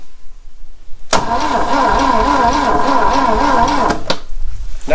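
A 1973 Saab Sonett that sat for 37 years cranks on its starter for about three seconds, a loud rhythmic churning whir without firing, ending abruptly.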